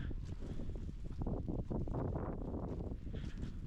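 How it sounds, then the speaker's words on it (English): Strong wind on the Missouri River Breaks buffeting the microphone in continuous rumbling gusts, loud and close, with no other sounds. "it has been horrifically windy almost the entire day"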